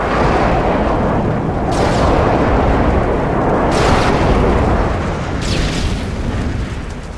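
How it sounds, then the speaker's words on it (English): Video game airstrike explosions from Call of Duty MW3 on the Offshore map, heavy continuous rumbling blasts with three sharper bursts spaced about two seconds apart, loud and sustained. "Friendly airstrike on the way."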